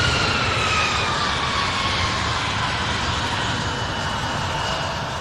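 A steady, loud jet roar with a high whine comes from an Airbus A300 taxiing at Louisville International Airport, continuous throughout the clip.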